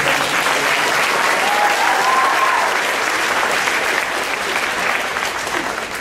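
A crowd at a Cupertino High School marching band and color guard home show applauds a senior clarinet player. The clapping is full, sustained and fairly loud, holding steady before easing slightly toward the end.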